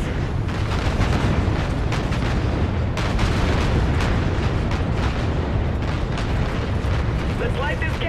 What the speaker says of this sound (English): visual on that tower detonation